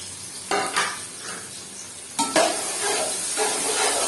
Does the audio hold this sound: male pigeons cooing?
no